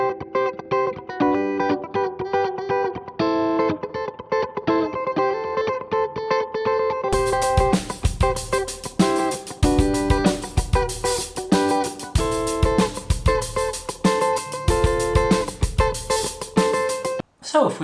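Electric guitar played in a funk style with the volume knob rolled back, clean rhythmic chords that fill out and grow fuller partway through, playing steadily and close with no talk.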